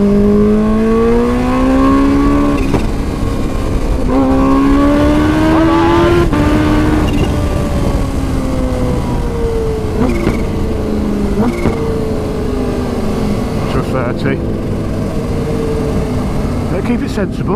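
Kawasaki Ninja H2 supercharged motorcycle engine heard loud and close while riding, with rising and falling revs across several gear pulls, steady wind roar throughout.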